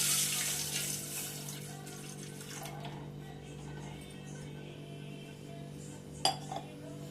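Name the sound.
milk being poured into a cooking pot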